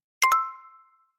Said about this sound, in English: That's the sound of you learning a new language with Babbel.